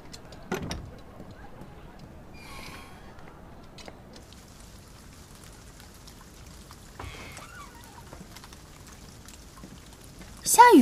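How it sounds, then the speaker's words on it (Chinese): Rain falls in a steady, soft, even hiss, with a few brief thuds and rustles and faint bits of voices over it. "这儿的天气还挺特别的，说下雨就下雨"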